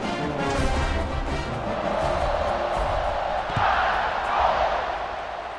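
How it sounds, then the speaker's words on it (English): A stadium crowd in the EA Sports College Football 26 video game gives off a broad, steady roar and buzz of cheering that swells slightly toward the end, with commentary voices over it. "this crowd is buzzing after that last score"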